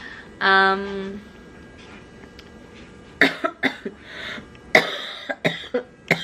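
A short throat-clearing sound, then a string of sharp, close coughs in uneven bursts, loud against a quiet background.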